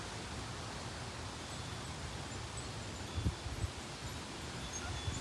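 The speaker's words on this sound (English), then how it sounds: "I mean, it's windy" Steady outdoor wind sounds as a broad, even rushing noise with low buffeting rumbles against the microphone, faint and continuous with no voices.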